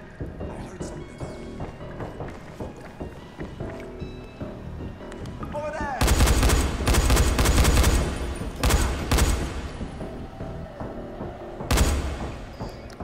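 Gunfire in Dying Light, rapid bursts of shots crackling loudly in clusters over ongoing game sounds, with a final burst near the end.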